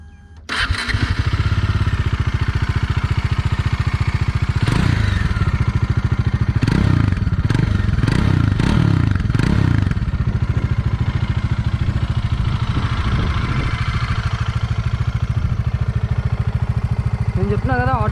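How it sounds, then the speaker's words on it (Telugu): A Bajaj Dominar 400 motorcycle engine cranks and catches near the start, then settles into a close, steady idle punctuated by several quick throttle blips. "ఒకసారి బండి అయితే స్టార్ట్ చేద్దాం"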